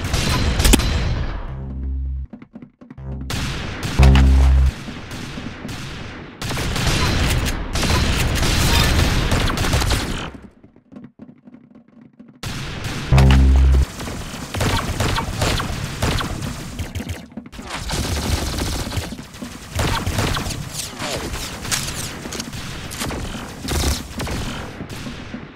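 Gunfire in the video game Arsenal, with loud, close bursts of rapid shots and booming impacts nearly throughout, broken by a couple of short quiet gaps.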